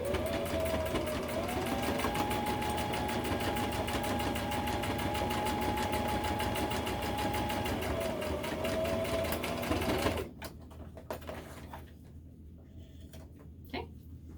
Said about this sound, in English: So you're gonna sew along the short edge to put 2 straps together.